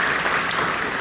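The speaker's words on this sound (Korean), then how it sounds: "사랑하고 격려하는 우리 박수해 주시기 바랍니다" Congregation applause during a church worship service, a brief burst of dense clapping from many hands, fairly loud and uniform, with no talk over it.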